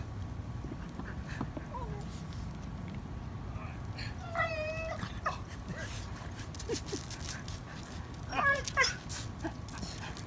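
A husky dog whimpers while flea drops are applied, giving a couple of brief, thin whines a few seconds apart over steady background noise.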